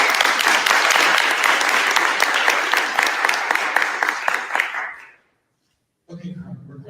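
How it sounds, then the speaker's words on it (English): An audience at a SXSW queer activism panel applauding: sustained dense clapping that holds steady for about five seconds, then fades and cuts to silence before a voice begins. "So please give them a round of applause."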